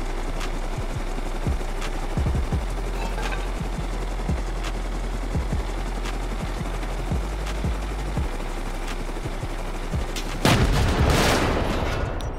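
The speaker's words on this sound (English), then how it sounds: "Where are we getting shot from?" Gunfire during a raid on a large open compound in a video game, with repeated sharp shots and short bursts over a steady droning hum, ending in a louder, dense volley of fire.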